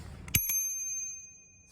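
A bicycle bell on a Juiced CrossCurrent X electric bike gives two quick rings, a sharp first strike and a softer second, then a thin metallic tone fades out alone over about a second.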